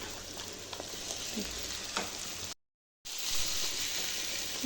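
Crushed ginger, garlic and green chili sautéing with tomato in a pan for chicken biryani: quiet, even sizzling with occasional stirring scrapes, cut by a half-second gap of silence before the frying resumes.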